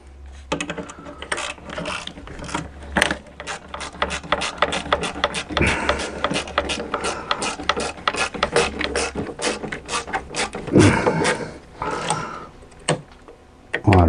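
A ratchet wrench clicks rapidly in bursts while tightening a part during an oil and filter change on a Fiat Punto, close and loud, with dense pawl ticks running through the whole stretch.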